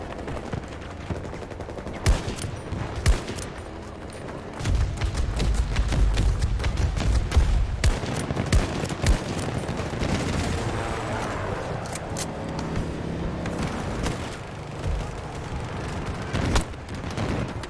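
Gunshots in a shooter video game crack out over and over, in single cracks and rapid machine-gun bursts. Heavy thumps mix in, and the firing runs dense and loud throughout.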